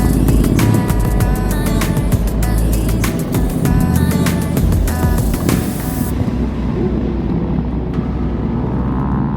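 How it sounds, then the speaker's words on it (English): Motorcycles at a busy outdoor bike meet, loud engines roaring and revving continuously up close, blending into a dense mechanical rumble that thins out toward the end. "Bikes everywhere, man. Absolutely everywhere."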